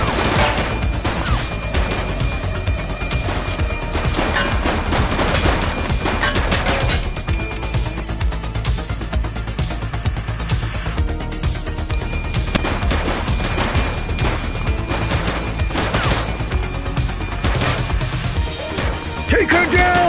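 Gunfire in the police video game The Precinct on PS5: dense, continuous bursts of shots and crashes fill the whole stretch, loud and close, with voices calling out between volleys.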